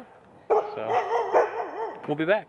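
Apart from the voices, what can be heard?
dogs barking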